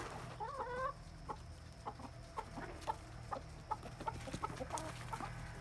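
A broody hen and other hens clucking in short, repeated bursts at a steady, unhurried pace, close by, over a low background hum.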